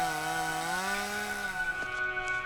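A chainsaw runs in a continuous buzzing whine at moderate loudness, its pitch drifting slightly upward and then settling, with no talking.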